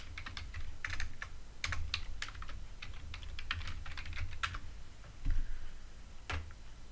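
Rapid computer keyboard typing in bursts of sharp clicks and key taps, steady and close, with no talking.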